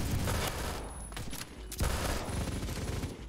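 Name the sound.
tap firing a gun in Phantom Forces video game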